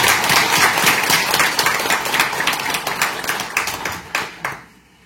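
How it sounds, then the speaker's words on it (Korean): An audience applauds a monk at a Buddhist gathering, with steady, dense clapping that thins into a few last claps and stops near the end. "스님께 먼저 박수를 한번 보내드리겠습니다"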